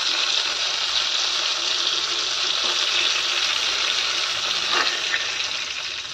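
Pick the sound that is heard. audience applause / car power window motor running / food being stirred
food being stirred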